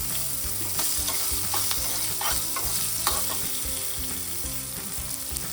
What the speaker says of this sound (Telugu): శనగపప్పు, మినపప్పు, ఆవాలు, జీలకర్ర, ఎండుమిరపకాయ వేసి వేయిస్తున్నా.